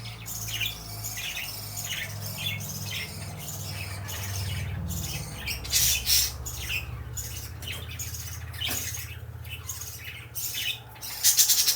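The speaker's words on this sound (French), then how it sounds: "Hey, les oiseaux doivent avoir faim, eux autres." Hungry baby birds squawk in repeated short, rasping bursts, close and fairly loud over a low rumbling background hum that shifts partway through.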